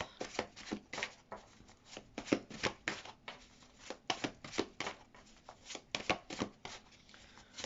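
Tarot cards shuffled by hand in quick riffling bursts, a series of crisp close flutters and taps repeating at an irregular rhythm, with no talking.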